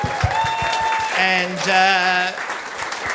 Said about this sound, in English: a round of applause for Alex J.